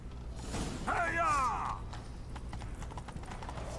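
Horse in The Witcher 3 clip-clops along at a steady pace under a whinny-like creaking burst, with quieter rustling and clatter trailing after; hoofbeats are moderately close and not especially loud.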